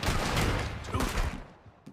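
Red Dead Redemption 2 gunfight: a dense burst of overlapping gunshots rattles loudly for about a second and a half, then fades, with one last isolated shot near the end.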